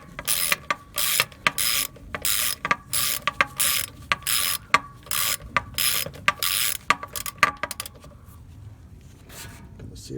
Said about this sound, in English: Breaker bar, breaker bar.